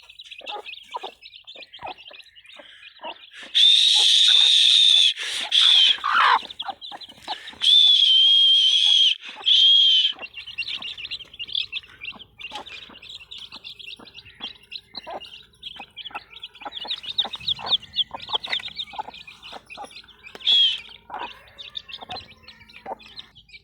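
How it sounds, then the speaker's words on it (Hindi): Aseel hens with their chicks pecking and foraging outdoors, with repeated high chirps and peeps, some louder close calls, and small scratching and pecking sounds throughout. "चुगते पे जी सारे चूचे, दोनों मुर्गियां नाल आ।"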